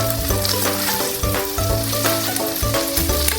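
Garlic fries alongside BBQ-style pork belly in a pan, a loud, close, continuous sizzle with rhythmic stirring knocks and clinks, and no voices.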